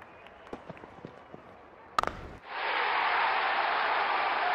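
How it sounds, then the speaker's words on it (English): A stadium crowd in the cricket video game Real Cricket 20 roars after a batsman hits a six, a loud sustained swell of cheering that follows a few sharp taps and a brief burst of bat-and-ball noise. "Crowd is going crazy"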